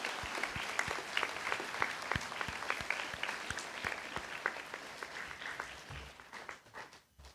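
A school audience applauds educators at a junior school celebration, with distinct individual claps standing out from a soft, steady bed of clapping that gradually thins and fades.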